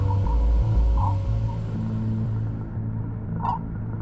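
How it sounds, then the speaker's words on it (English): Low, steady rumbling drone with a faint hiss above it, plus a couple of soft brief chirps; eerie and continuous, no voices. Voyager 1 recording of the solar wind slowing against interstellar gas. "This is the sound of the solar wind as it abruptly slows down from the pressure of interstellar gases."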